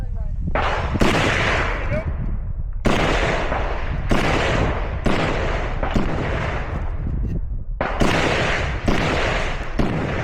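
A Kalashnikov-style rifle fires during a shooting match stage, with loud, close, sharp reports coming about one per second and each shot ringing out with a short echo. A voice can be heard briefly between the shots.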